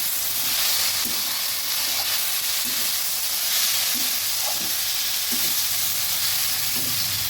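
Pumpkin flowers frying in a pan give a dense, continuous sizzle and hiss, with soft periodic stirring knocks underneath, close and steady throughout.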